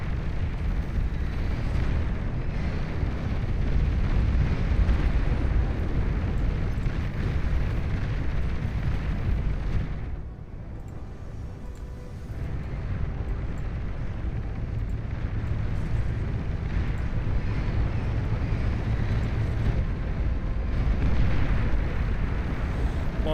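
Missile launches and explosions in the strategy game Beyond All Reason, with naval units on a northern sea map, form a continuous loud rumbling barrage that dips briefly midway before resuming.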